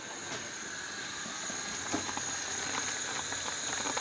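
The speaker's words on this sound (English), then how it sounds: "The sauce is boiling." A steady bubbling hiss of Malaysian honey chicken sauce boiling in a pot, with small pops and spatters throughout, close and fairly quiet; no one speaks.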